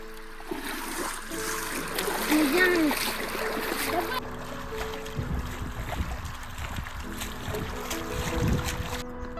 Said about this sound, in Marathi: जाईल ना वाहू तिकडं पाणी बघ किती जास्त व्हायला लागलं